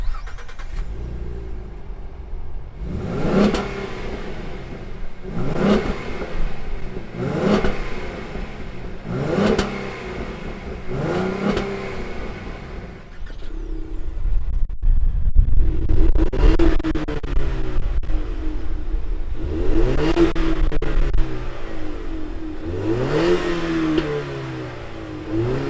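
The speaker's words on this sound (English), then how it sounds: "let's fire up these two smaller displacement Mustangs and hear what they sound like" Two small-displacement Ford Mustangs, a 2017 V6 and a 2020 EcoBoost four-cylinder, crank to life, then take a series of sharp, evenly spaced revs that rise and fall, followed by a longer run of louder, overlapping blips near the end.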